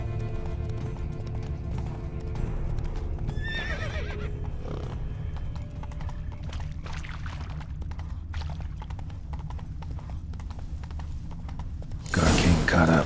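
Galloping horse hooves clatter steadily in The Witcher 3: Blood and Wine, with a shrill neigh partway through and a loud noisy burst at the end, set against low game ambience.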